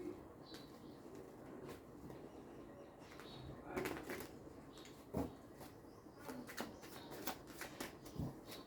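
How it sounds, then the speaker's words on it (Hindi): Tarot cards being shuffled, heard as faint soft riffling and papery flicks over a steady low room hiss, with a few brief louder taps. "Give a good shuffle."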